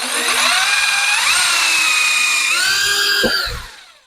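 A power drill bores holes in pieces of wood for a shed roof repair: a loud, close, continuous whine that shifts in pitch as the bit cuts, then winds down at the end.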